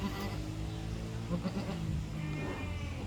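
A newborn kid goat, a Croesboer just delivered, bleats in a few short near cries over a steady low hum of background noise, with faint voices nearby.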